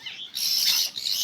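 Several high, thin chirping calls from birds flock together in a brief burst, close and fairly clear.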